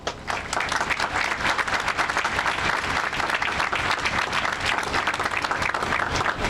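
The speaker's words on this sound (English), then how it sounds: "Can we have a round of applause for all of them?" Sustained applause from a high school graduation audience, dense and steady clapping that fills the hall at full strength for several seconds without a break.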